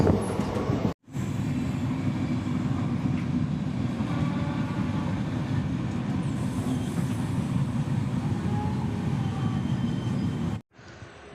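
Chemmozhi Express passenger train rolling on the rails near Erode, a steady loud rumble of wheels and carriage noise heard from inside, continuous for about ten seconds with brief cutouts at start and end.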